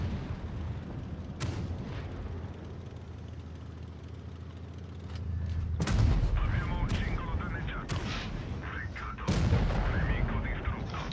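Heavy tank cannon shots boom out during a World of Tanks Blitz match on Himmelsdorf, a few big blasts over a low engine rumble, with someone talking over the action.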